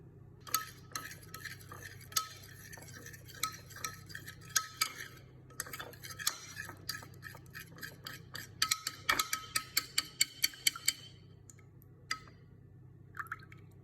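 A spoon mixes olive oil and honey into a hair mask in a bowl, making soft, intermittent clinks and wet taps, quiet and close, with a brief pause partway through and a quickening run of taps near the end.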